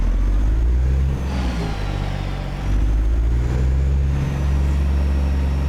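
A truck engine in American Truck Simulator rumbles with a deep exhaust note and rises and falls as it revs, loud and continuous, with no talking.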